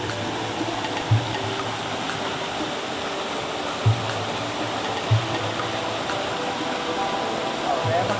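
A stream flowing, a broad steady rush of water close by, with a few footsteps or knocks, and a voice briefly in the background.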